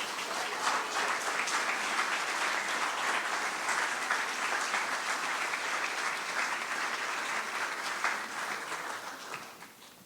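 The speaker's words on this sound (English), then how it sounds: "that's another round of applause for Will and for Annie" Mourners at a memorial gathering of friends and family clap in long, even applause that fills the room for around nine seconds before tapering off toward the end.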